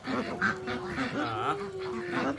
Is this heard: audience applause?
no